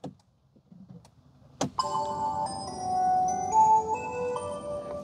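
A 2024 Fiat 500e plays its start-up chime after a sharp click, a quiet, bright, tinkling melody of several sustained tones in a calm car interior.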